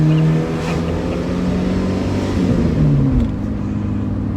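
A Ford Capri's engine revs and drones steadily from inside the car while driving, with tonal pitch swings as it is blipped and held, loud and continuous with no talking.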